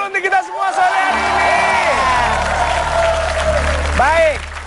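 A television studio audience applauds and cheers, with clapping mixed with whoops and shouts, rising quickly and holding loud before a last burst of shouting near the end.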